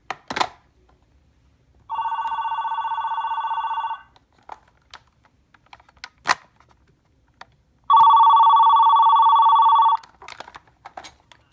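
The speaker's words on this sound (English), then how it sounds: "It's the nice classic AT&T low pitch ringer, which I love." A vintage 1989 AT&T 210 Trimline corded phone ringing on its low-pitch ringer setting, two steady two-second bursts of electronic warble separated by a pause, fairly loud and close, with faint handling clicks between.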